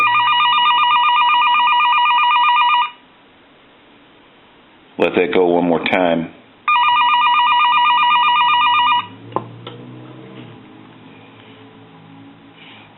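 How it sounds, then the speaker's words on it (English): A French-style desk telephone under repair rings with a loud electric bell in two long bursts, each about two to three seconds, with a short stretch of talk between them and quiet bench noise afterward. "See if we can't ring the phone."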